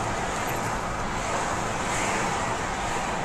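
Steady road noise from a car driving along Sunset Boulevard between Bel Air and Beverly Hills, a continuous broadband rush of tires and wind with no pauses and no voices.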